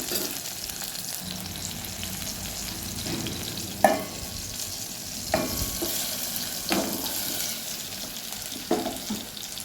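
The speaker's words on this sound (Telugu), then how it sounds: "ఉల్లిపాయలు వేగాక టమాటా వేసి ఒక 5 మినిట్స్ వేపాలి." Onions and tomato fry in oil in a pan, a steady soft sizzle broken by a few sharp stirring clinks and scrapes, close and without talk.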